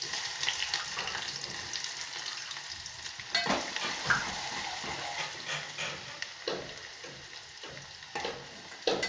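Onion added to hot oil already holding green garlic, for a Gujarati green pigeon pea curry, fries with a dense continuous sizzle and occasional stirring clatter, close up, with no voices.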